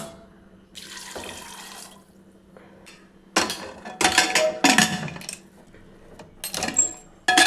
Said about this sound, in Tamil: குக்கரில் சேர்த்துட்டு கொஞ்சம் தண்ணி சேர்த்துக்கலாம்.